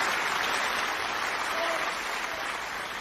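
A soft, steady wash of applause from a distant audience, even and continuous throughout with no voices standing out.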